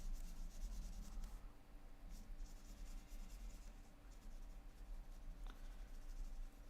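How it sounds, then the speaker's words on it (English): A pencil or pen rubs and scratches across paper while shapes are drawn by hand for an art sketch, a soft, steady, continuous scraping heard up close over a low background hum. "So I'm just drawing some shapes."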